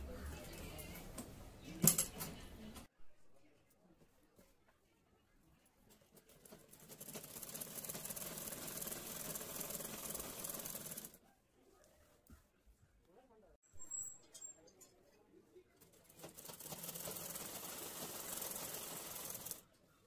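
Sewing machine stitching a saree petticoat, running in two long bursts with stops in between, a steady rapid whir close to the listener, with a few clicks and handling knocks during the pauses.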